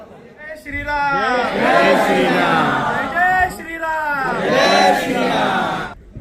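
A dense crowd of social media influencers surges and shouts at the Main Atal Hoon movie premiere, the cheering and calls swelling in two loud waves under overlapping voices.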